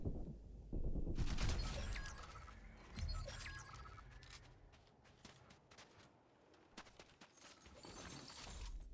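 Bursts of Fortnite gunfire crackle and pop, with a dense volley early on followed by scattered sharp shots and impacts, fairly close and loud.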